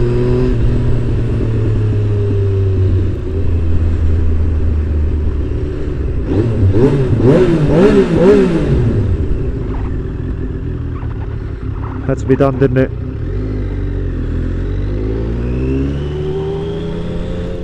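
A Triumph Daytona T595 sports motorcycle revs up with a rising, swooping engine note that peaks and falls away, then a second shorter burst, loud and close over a steady idle rumble, with someone briefly talking.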